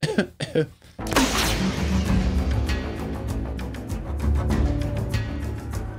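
A few short bursts of coughing at the start, then a continuous noisy wash like water or a crowd fills the rest.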